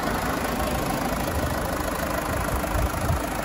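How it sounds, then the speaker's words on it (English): A steady diesel engine of a Land Rover Freelander 2 TD4 idles close by with a low, even rumble and slight knocking texture, air conditioning running, without any talk. "the engine running on this uh, Freelander TD4"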